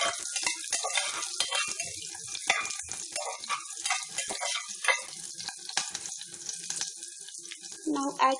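Cashews and chopped green chili sautéing in a pan, a moderate crackling sizzle with frequent spatula scrapes and taps, with a brief splash of water near the end.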